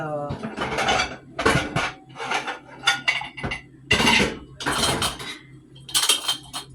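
Pots, pans and cutlery clatter and clink in a home kitchen while spaghetti, ground beef and fish are being cooked, a series of loud, close metallic knocks and rattles with brief pauses.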